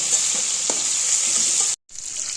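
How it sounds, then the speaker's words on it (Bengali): Prawns fry lightly in oil in a wok, a loud, steady close sizzle with a few soft stirring knocks, broken by a short gap of silence before the hiss resumes. "চিংড়ি মাছগুলো আমার হালকা করে ভাজা হয়ে গেছে, এটাই আমি এবার কড়াই থেকে তুলে রাখবো"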